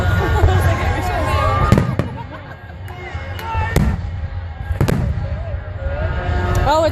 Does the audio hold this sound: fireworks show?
yes